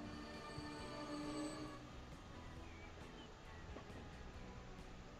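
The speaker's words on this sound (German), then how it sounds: "Da nochmal der andere Zug von eben." A train runs in the video game Transport Fever 2, a steady, fairly quiet rolling rumble with faint wheel squeal and rail clatter throughout, with no talk.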